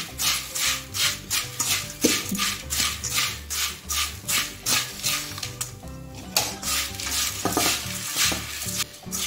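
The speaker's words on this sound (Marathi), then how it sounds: "आता आपण हा तडका चिवड्यावरती टाकून घेणार आहोत। एकत्र मिक्स करून घेऊया।" Tempering poured over puffed rice and flattened rice chivda and mixed in a pan, with repeated scraping and stirring strokes, a light sizzle and occasional clinks of a spoon against metal, close and steady with no talking.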